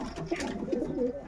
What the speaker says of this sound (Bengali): নড় পায়রা, এটা মাদি পায়রা